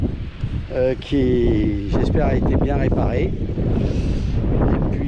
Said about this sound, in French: On a du vent, hein, on a beaucoup de vent